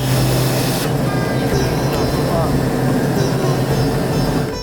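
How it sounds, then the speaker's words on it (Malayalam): Loud, steady drone of a small aircraft's engines heard from inside the cabin as it lands at Lumbini, Nepal, a constant roar with a faint whine. "ശ്രീ ബുദ്ധ ഭഗവാൻ ജനിച്ച നാട്ടിലെ വിമാനത്താവളത്തിൽ ഇതാ എൻ്റെ വിമാനം ഇറങ്ങുന്നു"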